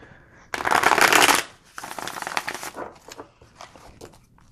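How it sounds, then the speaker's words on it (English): A brand-new tarot deck is shuffled right out of the box, giving a loud, close burst of riffling cards followed by softer, quieter card flicks and shuffling. "it shuffles deliciously right out the box, because this is new"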